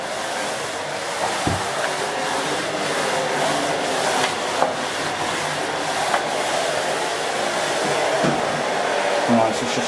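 Miele C2 Compact cylinder vacuum cleaner running in a bathroom, a steady loud broadband motor roar with occasional small knocks as the head moves over the floor.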